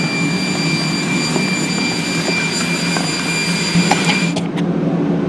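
Leaf blower engines on a homemade hovercraft give a loud, steady whine with a high-pitched tonal hum close by, a few clicks and knocks over it, cutting off near the end.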